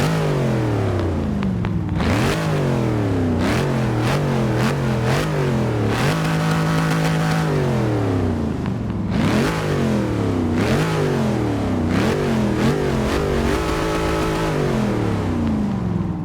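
A Dodge Challenger SRT Hellcat V8 at Road America roars through repeated loud revs, each one climbing sharply and then dropping back to a throbbing idle, with no talking over it.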